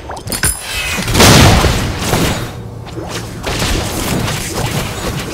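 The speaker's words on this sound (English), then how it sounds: "Your guardian has been destroyed!" A guardian tower is destroyed in the mobile 5v5 MOBA Extraordinary Ones, giving a loud booming crash with thuds and a rumbling collapse that lasts several seconds.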